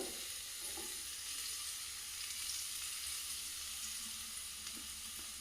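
Continuous bright crackle of spice tempering for Telugu pappu charu sizzling in hot oil, close up and steady throughout, with no voices.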